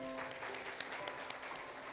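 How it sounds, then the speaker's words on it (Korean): Brief applause from a church congregation during a Sunday morning Korean service in Chile, a steady low wash of clapping with a few sharper claps standing out, fairly faint and distant. "박수로 격려하겠습니다"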